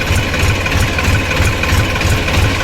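A tractor engine idles steadily up close, a loud, even low rumble with a regular knocking pulse throughout, and no talking.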